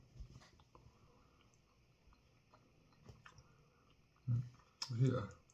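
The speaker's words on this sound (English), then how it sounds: "I'll chew away at it." Cinnamon-flavoured JawBreaker bubblegum being chewed close to the mouth, faint soft wet clicks in an irregular rhythm, ending with a couple of louder bursts of sound.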